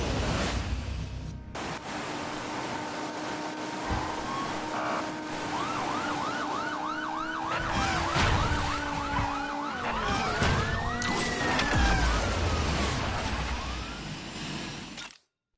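Wailing police car sirens in a video game, several overlapping rising-and-falling tones sounding loud and continuous over a steady background rumble for the whole stretch.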